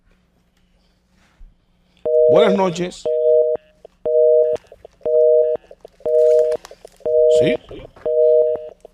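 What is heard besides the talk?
telephone busy signal after a dropped call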